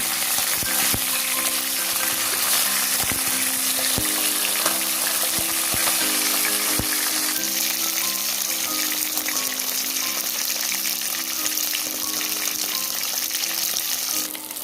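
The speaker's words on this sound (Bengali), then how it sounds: "হালকা বাদামি করে ভেজে নেব। এবার আমি মাছগুলো উল্টিয়ে দিচ্ছি।" Steady, dense sizzle of taki fish frying in oil, with a few soft clicks and a faint low hum underneath.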